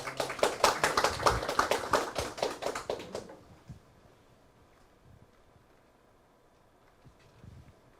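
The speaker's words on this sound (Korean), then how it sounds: "큰 박수로 맞이해 주시기 바랍니다" Applause from the audience at a district labor policy forum in Yangcheon, greeting an arriving National Assembly member: dense rapid clapping for about three seconds that cuts off abruptly, leaving a quiet hall with faint scattered noises.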